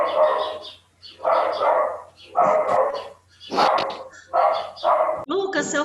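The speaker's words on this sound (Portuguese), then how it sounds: "Lucas, seu cachorro tá latindo e o Totoro começou a rosnar aqui" A dog barks in a run of six or seven loud, close bursts spaced about a second apart, with no speech over them.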